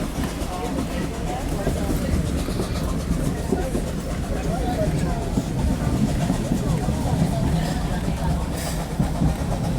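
Nickel Plate Road 765 steam locomotive running on the Steam in the Valley 2019 excursion, a steady heavy low rumble and rolling rail noise filling the whole stretch with little variation, close and loud, with voices faintly mixed in.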